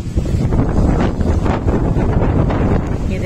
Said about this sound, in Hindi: ये देखो हवा की आवाज, इससे आप आइडिया लगा सकते हो कितनी तेज हवा होगी।